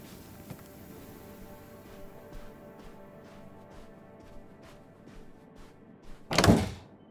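A door opening in the video game Open Roads, with faint ticking and shuffling before it and a single loud, close thud and scrape near the end, no talking.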